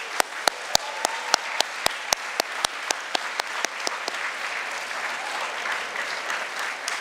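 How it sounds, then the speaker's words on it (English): Applause for supporters at an awards ceremony, a crowd clapping with one close clapper striking loud, evenly spaced claps for several seconds before the sound settles into a softer, even patter. "let's have another round of applause for all those supporters"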